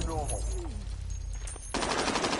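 Gunfire in a PS4 shooter game, a short rapid automatic burst near the end after a stretch of quieter game sounds, with a voice speaking early on.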